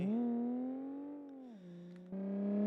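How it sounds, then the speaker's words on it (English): Loud engine of a car in the BeamNG.drive driving game, a steady harmonic drone that dips in pitch midway, then jumps back up and holds, continuous with no talking. "The car's an extremely loud engine."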